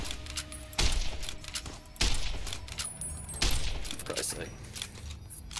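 Gunshots in Fallout: New Vegas fired at a window, three loud sharp blasts spaced about a second apart with smaller cracks and clatter between, a voice talking over them.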